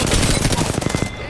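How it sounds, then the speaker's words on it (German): Gunfire in the Apex Legends battle royale game, including a sniper rifle shot, comes as a dense run of sharp loud reports and rapid bursts over about a second, close and busy, then fades out. "da ging ein Sniper-Schuss knapp an mir vorbei"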